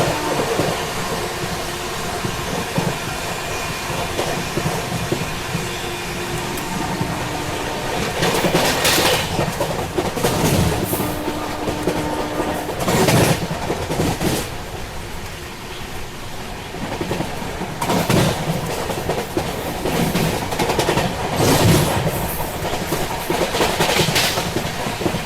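The Marudhar Express runs fast on the rails with a continuous heavy rumble and clatter, and louder bursts of rattling wheels recur along the way.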